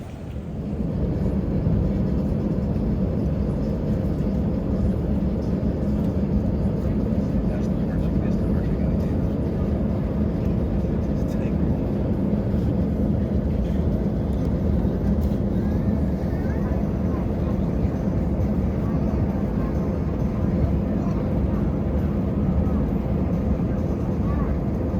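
A large airport gives off a continuous low, droning rumble of aircraft noise that holds steady and close for the whole stretch, with people talking faintly underneath.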